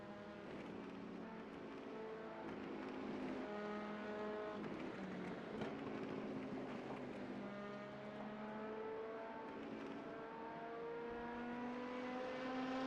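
Several GT race cars circle a track at Canada's VSCA 2.4 Hours, engines droning and shifting pitch continuously as they pass, a steady layered roar with no pauses or voices.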